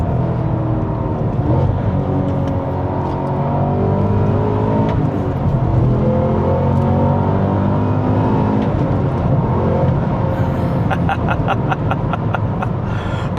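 A Cadillac CT5-V Blackwing engine revs up and down through gear changes with automatic rev matching, a loud, close, sustained engine roar with rising and falling pitch.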